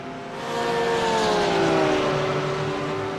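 A race car whines past at Imola in a racing video game, its engine note rising and then falling as it sweeps by, loud and sustained, with no talk over it.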